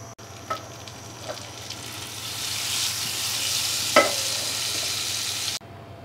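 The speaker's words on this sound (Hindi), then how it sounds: "पैन में डालेंगे 2 चम्मच बटर। आप बटर की जगह ऑयल में भी बना सकते हैं। बटर को हम पहले अच्छे से मेल्ट हो जाने देंगे।" Butter melting in a pan on a low gas flame gives a steady, close hiss of sizzling with a few small pops and crackles, then stops abruptly near the end; no voices.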